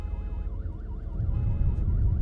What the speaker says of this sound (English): Shit, that alarm is too freaking loud.